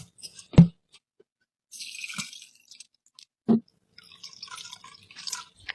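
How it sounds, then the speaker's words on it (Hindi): Quiet, sparse drips and a brief trickle of water draining from grated potatoes through a mesh strainer, with short pauses between splashes and no voices. "स्ट्रेनर यानी छन्नी की मदद से हम ये पानी निकाल लेंगे।"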